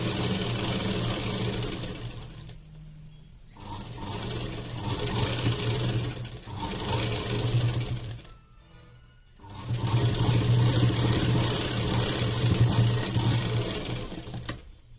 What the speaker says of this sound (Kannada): ನಾನಿಲ್ಲಿ ಸ್ಟಿಚಿಂಗನ್ನು ಹಾಕ್ತಾ ಇದ್ದೀನಿ